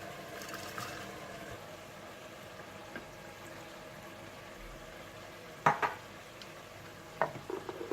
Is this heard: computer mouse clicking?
no